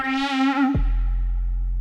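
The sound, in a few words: pitch bend effect on synth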